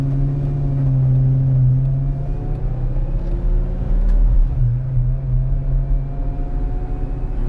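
A Lamborghini Gallardo Nera engine idles with a deep, steady rumble, a slight rise and dip in pitch midway, close and loud with no talking.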